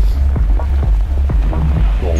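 A turbocharged Lada Niva engine throbs during an off-road race, a loud, close, pulsing low drone with quick rhythmic surges.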